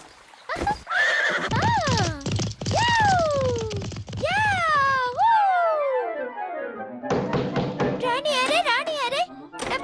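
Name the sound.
horse neighing and hooves clip-clopping in cartoon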